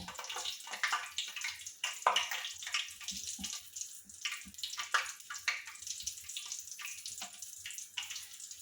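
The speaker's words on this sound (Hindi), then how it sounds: "मैं बैटर में कैप्सिकम को डुबो के फ्राई करने के लिए छोड़ रही हूँ।" Stuffed capsicum pieces dipped in batter sizzle in hot oil as pakoras fry, a steady close crackling hiss with scattered sharper pops and no talking.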